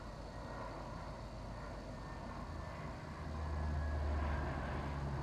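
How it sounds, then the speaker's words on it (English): A large cargo plane flying around the map in Farming Simulator 19, a steady distant engine drone under constant ambient rumble that swells slightly louder toward the end. "The large cargo plane that flies around the map. You can probably hear that in the background."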